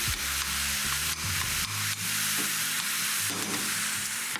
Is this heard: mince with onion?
yes